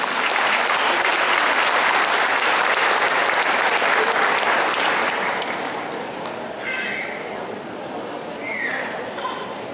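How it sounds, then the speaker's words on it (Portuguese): An audience at a show's opening ceremony claps steadily in a dense, bright wash of applause that softens partway through, with faint voices mixed in. "Uma salva de palmas para esse grupo."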